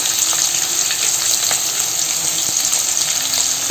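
Raw amla frying in a pan with salt gives a steady, loud, close sizzle that runs without a break, with no talking.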